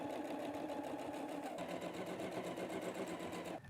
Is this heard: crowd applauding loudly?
no